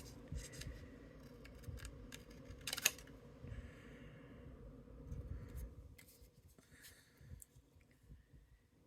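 Paper card is trimmed down to a score line with a series of quiet, close snips and cuts, plus light handling rustles between them.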